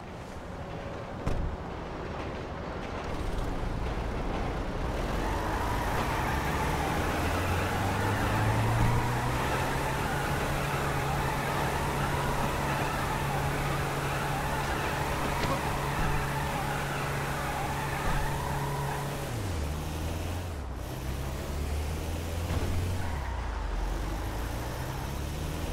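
A van's engine hums and drives steadily in GTA V, a continuous loud road drone with shifting tone as it accelerates, then changes pitch near the end, with no talk.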